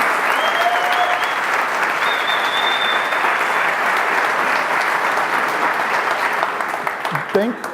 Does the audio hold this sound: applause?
yes